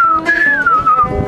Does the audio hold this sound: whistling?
yes